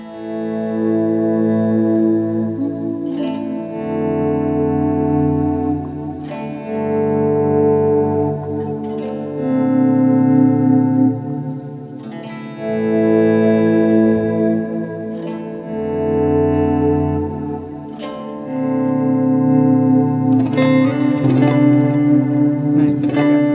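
Guitar played through a Disaster Transport delay pedal, repeated strummed chords with echoing repeats and a faint shimmer, steady phrases recurring every few seconds, close and fairly loud with no talking.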